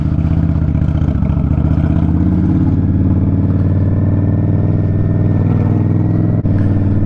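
Motorcycle ride captured from a helmet-mounted GoPro: a steady, loud engine drone with rumbling low tones and wind buffeting runs continuously, with a brief dip near the end and no talking.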